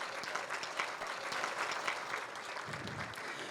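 An audience at a benefit luncheon claps steadily and moderately loud for several seconds, a continuous patter of many hands with no speech over it.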